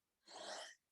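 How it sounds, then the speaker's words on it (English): A single breathy sneeze lasting about half a second, quiet and close, stands alone in silence. "I got to sneeze."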